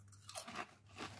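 Crunchy Endless Salt Dragon potato snack is chewed close to the mic, giving a few quick, crisp crunches in an uneven rhythm with no talking.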